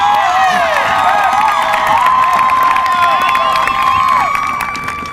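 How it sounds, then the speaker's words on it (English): Graduating students at a school graduation ceremony cheer loudly, a crowd of high shouts and whoops ringing through a large hall, with scattered clapping, steady at first and easing slightly at the end. "Class of 2012, give yourself a round of applause."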